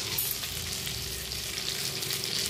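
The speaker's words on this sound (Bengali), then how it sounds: "এভাবে ভাজতে হবে, একদম পোড়া পোড়া করে লাল লাল করে ভাজতে হবে" Tandoori chicken pieces fry in a pan with a steady, close sizzle and light crackle running throughout, with no voices over it.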